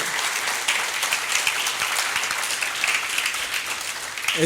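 Sustained applause from a crowd, dense clapping that stays steady throughout and ends abruptly.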